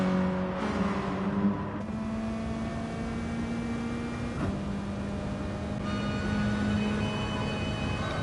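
A racing car engine in Gran Turismo on the Alsace circuit revs hard under full throttle, its pitch climbing through the gears with quick shift breaks, loud and alone without talk.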